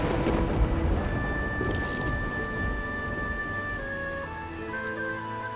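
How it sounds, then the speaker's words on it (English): A thunderstorm with rain in the game Mount and Blade II: Bannerlord: steady rainfall with a low rumble of thunder, with sustained tonal game music or ambience tones laid over it. "Edge of the storm there."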